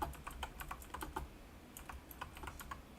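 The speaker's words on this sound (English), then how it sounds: "I can hear you hammering your keyboard." A computer keyboard is hammered hard in quick irregular bursts of sharp clacking keystrokes, faint and slightly distant, with no talking.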